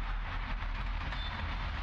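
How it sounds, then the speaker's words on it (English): A train rolls past in the video game Alan Wake Remastered, a steady, loud, broadband rumble that holds without a break for under two seconds, with no talking over it. "Oh, that's a train."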